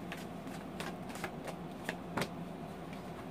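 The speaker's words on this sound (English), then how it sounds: "I'm pulling one card to oversee your reading." Tarot cards being shuffled by hand at close range, a quiet run of soft riffling flicks and taps at an irregular rhythm, with no talking.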